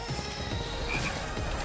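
Frog croaking in the Final Fantasy VII Rebirth video game, a short croak over a dense game soundtrack, at moderate level with no talk.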